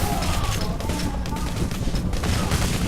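Chaotic gunfire in the heist game Payday, a continuous wall of overlapping shots and crashes, loud and dense throughout with no clear pauses, over faint voices.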